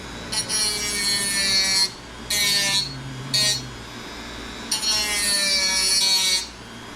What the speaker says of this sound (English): I could take a sand disc like this, crank this up